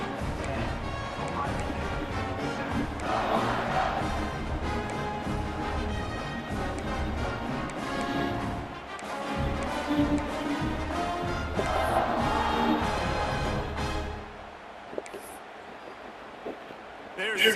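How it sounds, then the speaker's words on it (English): A stadium crowd in the video game EA Sports College Football 26 roars loudly at a snowy game ahead of a kickoff, the broad cheering swelling and dipping over steady music before thinning out near the end. "They're set to kick it off, and this crowd now ready to get behind them."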